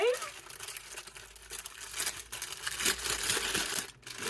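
Crinkly paper being torn and scrunched open on a soft, squishy advent calendar gift in a home sewing studio, a busy rustling and crackling that rises and falls close to the mic over a few seconds.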